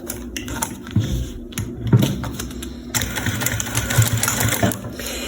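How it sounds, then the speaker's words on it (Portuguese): Walking-foot double-feed sewing machine stitching fabric for a baby document case, bursts of fast mechanical rattling separated by brief pauses, close and clear. "Esse pé calcador que eu estou usando, ele é da máquina de transporte duplo"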